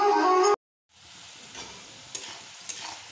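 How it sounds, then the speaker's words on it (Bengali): Eggs, lightly salted, fry in a pan for egg biryani: a brief loud burst of sound, a moment of silence, then a soft steady sizzle with a few faint scrapes of stirring. "এই দেখো, এটা আগে একটু ভাজা ভাজা করে নেব।"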